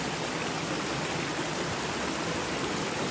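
A camp creek on a foggy morning flows in a steady, dense rush of water, loud and continuous with no voices or other sounds.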